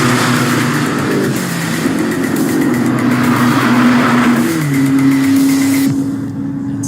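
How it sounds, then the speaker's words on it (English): A Ferrari SF90 Stradale 986-horsepower hybrid hypercar driving past nearby, its engine humming and rising in steady tones with gear changes, loud and close before fading slightly at the end. "the 986 horsepower new hypercar from Ferrari. This is the SF90 Stradale."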